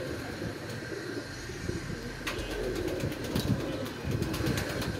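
A released pigeon beats its wings in a quick series of sharp, papery flaps over a couple of seconds, close by, against steady outdoor background noise.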